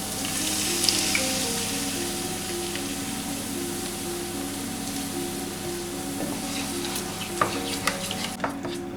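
Ginger, scallions and sweet bean sauce stir-fried over low heat for a Peking duck sauce, giving a steady soft sizzle with occasional spatula scrapes and clicks, close and continuous.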